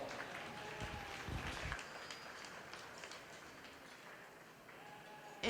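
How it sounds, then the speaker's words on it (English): Audience applause at a market lamb show and showmanship competition, a soft, distant patter of many hands that fades gradually over several seconds. "Let's go ahead and give them all a big round of applause."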